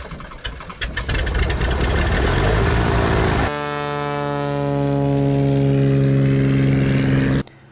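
Civil Air Patrol bush plane engine in Alaska, a loud, close rough roar that drops abruptly into a smooth, steady droning hum before cutting off.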